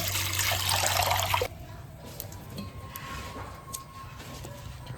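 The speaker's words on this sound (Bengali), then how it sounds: "কড়াটা এখন বসিয়ে দিচ্ছি, 1 মগ জল দিয়ে দিচ্ছি।" Water from a mug pours into a pan for making orange peel candy, a brief loud splashing rush at the start that gives way to a faint trickle and quiet kitchen background.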